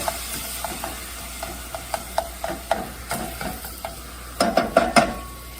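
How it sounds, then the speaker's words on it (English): Ginger and garlic cooking in a pan of sauce, a spoon stirring in a steady rhythm of soft scrapes and taps against the pan over a quiet background sizzle, with a few louder knocks near the end. "Giving it a stir here. Letting the ginger and the garlic cook up a little bit."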